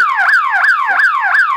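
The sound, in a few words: solar fence alarm siren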